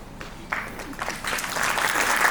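Audience clapping at a university alumni meet, starting scattered and quickly swelling into steady, dense applause from a crowd in a hall.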